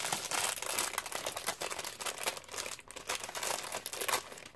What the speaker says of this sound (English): I don't know what kind of paper this is, but it has a really nice crinkle